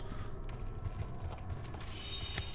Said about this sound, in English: I can literally hear their footsteps, and it sounds like mannequins.